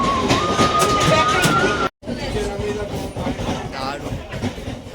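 Inside a crowded moving passenger train near Naihati, a loud constant rumble and rattle of the carriage with passengers chattering around, broken briefly by a short dropout midway.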